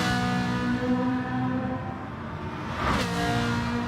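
A Ferrari GT4 race car engine in a racing game drones at high revs, its tone shifting as it climbs, then sweeps past with a sharp whoosh before settling back into a steady howl.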